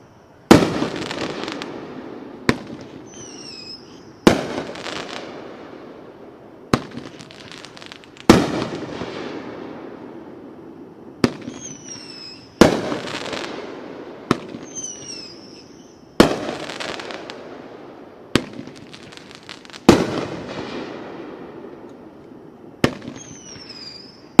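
A Spicy Hot 10-shot firework cake fires loud, sharp reports in a steady sequence, each bang followed by a crackling tail and echo, heard outdoors at a fireworks demonstration.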